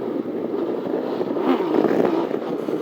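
A rare motorcycle accelerating in second gear while being ridden in Pune, with a steady low engine drone and a faint rise in pitch midway, blended with continuous wind rush.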